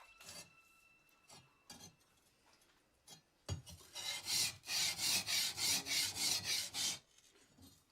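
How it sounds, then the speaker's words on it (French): A steel katana blade is polished by hand, heard as a run of close, steady rasping strokes in regular rhythm after a few scattered scrapes and clinks. "Un premier polissage permet de faire apparaître le hamon, la ligne de trempage de la lame."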